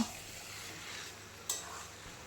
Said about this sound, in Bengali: চিকেনটা দেওয়ার পর হাই ফ্লেমে মশলার সঙ্গে কিছুক্ষণ কষিয়ে নেব